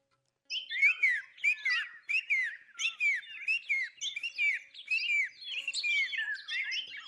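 A rapid series of bright, chirping whistled notes repeats steadily for several seconds, a partridge call imitated by a human whistler, clear and close.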